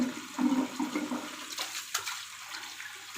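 Water running and splashing while quail are washed in a kitchen, a close, gurgling rush with small splashes that trails off.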